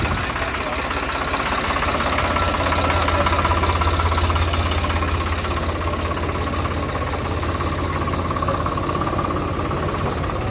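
A tractor pulling a trolley in a funeral procession chugs at a steady idle, its loud, continuous engine throb and knock running unbroken throughout.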